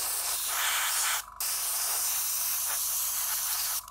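An airbrush compressor spraying an alcohol rinse, a loud, steady close hiss broken by two brief pauses.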